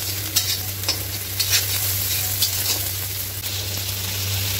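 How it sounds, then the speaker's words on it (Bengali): Chopped onions fry in a pan for a chicken curry with potatoes, a constant loud sizzle broken by repeated stirring scrapes and a low steady hum beneath, with nobody speaking. "পেঁয়াজটাকে একটুখানি ভালো করে ভেজে নেবো।"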